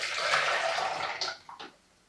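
Hot preheating water poured out of a glass French press coffee maker, a brief rushing splash that tapers off within about two seconds, with no speech.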